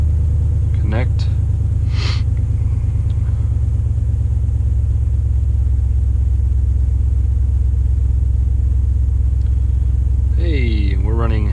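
A Jeep SRT engine idles with a deep, steady, loud rumble throughout, with a couple of brief higher tones and sounds over it near the start and end.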